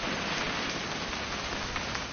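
Steady rain falls in a constant, close hiss of drops hitting surfaces, even in loudness from start to finish with no voices.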